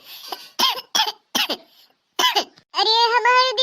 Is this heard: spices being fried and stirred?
no